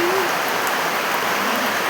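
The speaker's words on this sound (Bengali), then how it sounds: "বৃষ্টি যে এটা হঠাৎ করে এত বৃষ্টি দিতে পারে" Dense, steady downpour hissing continuously, loud and close, with a faint voice briefly audible at the start.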